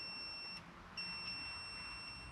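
A steady high-pitched electronic beep tone from a network cable tester sounds faintly, cutting out briefly before resuming, over low background noise.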